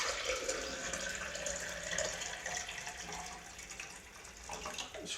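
Water pours steadily into a Ninja blender bottle while film-developing chemistry is being mixed, a continuous close splashing fill lasting several seconds, with no talking.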